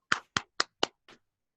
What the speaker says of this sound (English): he deserves a big round of applause then